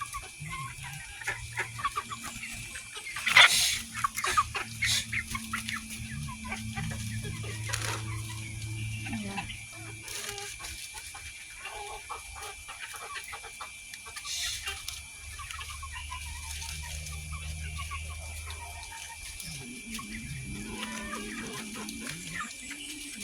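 Chickens cluck quietly and steadily while feeding, with soft low calls scattered over a constant high-pitched hum, and no talking.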